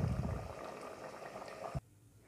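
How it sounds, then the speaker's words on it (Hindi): Green chana masala bubbles and simmers in a pan, a soft steady boiling texture close by that stops abruptly with a brief knock near the end. "ये देखें पकना शुरू हो गया।"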